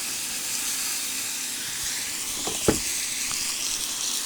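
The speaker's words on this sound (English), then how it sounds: "let's go ahead and get that sear" Meat sears on a grill with a steady, close hiss of sizzling fat, broken once by a brief sharp clatter partway through.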